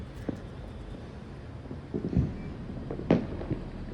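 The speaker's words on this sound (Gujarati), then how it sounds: "ધડાધડી ફટાકડા ફૂટે છે" Firecrackers bursting outdoors on New Year's Eve, a few scattered muffled booms from a distance over steady wind noise, the loudest near the end.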